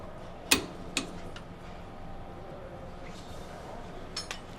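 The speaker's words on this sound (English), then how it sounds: "Finish the task by tightening the clamping bolt with a torque wrench." A torque wrench tightens a clamping bolt on a Scania truck during laser wheel alignment, giving a few sharp, sparse metallic clicks over a low background hum.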